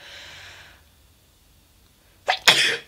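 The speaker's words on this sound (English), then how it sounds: "I gotta sneeze." A single loud, close sneeze bursts out after a soft breath and a moment of quiet.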